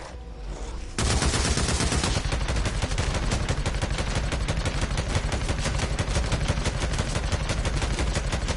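Sustained rapid gunfire in the video game Days Gone, starting abruptly after a quiet second and continuing as loud, dense automatic bursts to the end with no talk over it.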